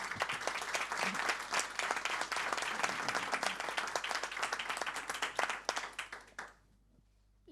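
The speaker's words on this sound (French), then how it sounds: "je pense qu'on peut les applaudir, n'est-ce pas?" Audience applause for a panel at a French-language conference on AI and content discoverability: dense, sustained clapping from a large crowd that tapers off and ends abruptly near the close.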